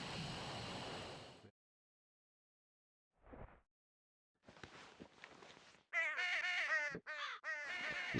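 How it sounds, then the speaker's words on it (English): Crows cawing in Ultima Online Outlands: a few rough, repeated caws rising near the end after brief soft shuffling sounds and a stretch of silence, loud and close with other game noise at the start. "These crows means that a murder has occurred."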